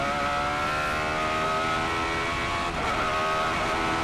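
Radical SR8 race car engine recorded onboard during a lap of the Nürburgring, a loud, steady, high-pitched roar with rich harmonics and gear changes, continuous throughout without talk.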